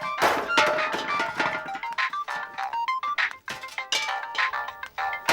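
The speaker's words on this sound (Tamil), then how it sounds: "உங்களுக்கு ஃபோன்" A phone rings in a TV drama scene, its loud ringtone a close series of bright, tinny tonal bursts that repeat without pause.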